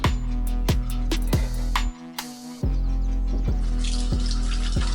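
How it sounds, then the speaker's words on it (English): Tap water runs steadily into a kitchen sink while hands are rinsed of egg, the stream briefly cut off mid-way and then splashing again, close and continuous with no talking. "Wash my egg off the hands again."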